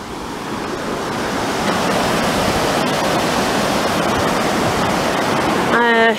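Water flows and rushes at Glentrool in Scotland, making a loud, steady broadband roar that swells slightly. A voice starts to speak near the end.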